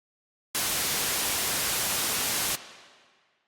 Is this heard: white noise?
yes